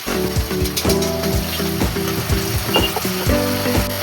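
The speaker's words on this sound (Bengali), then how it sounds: "ভালো করে মশলাটা এবার কষিয়ে নেব যাতে আদা রসুনের কাঁচা গন্ধটা" Spice paste with ginger and garlic sautéed in a pan, a loud continuous sizzle with stirring scrapes, joined by steady tonal clanking from a nearby rhythmic mechanism.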